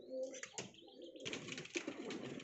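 High-flying purebred pigeons cooing nearby, soft throaty coos with a few chirps and a brief rustle of wings, heard alone and fairly faint.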